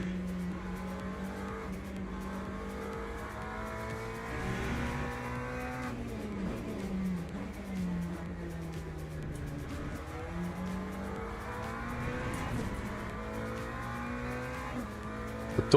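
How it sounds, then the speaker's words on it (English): A McLaren race car in the game Le Mans Ultimate accelerates out of a corner, its engine note climbing and dropping through gear changes with some tire noise, fairly quiet and alone. "don't discount that McLaren behind yet. He's getting a good launch out of that corner."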